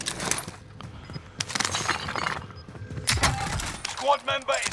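Glass shatters in a video game in a few quick, bright bursts amid other game noises, with voices talking.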